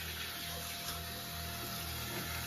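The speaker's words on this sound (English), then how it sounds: "fill it up with water" Tap water runs steadily into an ordinary drinking glass in a home kitchen, a continuous low gushing stream of even loudness with no talk over it.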